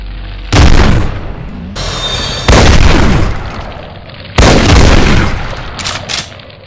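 A Cyberdemon in a Doom mod fires its explosive shotgun and rockets, loud booming blasts that land in three heavy bursts, each one followed by crackling, rumbling decay.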